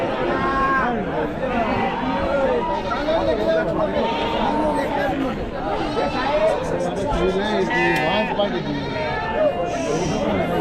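Sheep bleat repeatedly, near and far, at a large goat and sheep market in Chakan, Maharashtra, over dense crowd chatter and talking voices.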